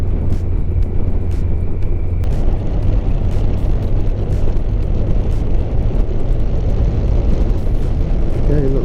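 A motorbike engine drones loudly and continuously while riding round bends on a country road, a steady roar mixed with heavy wind buffeting and no clear pauses.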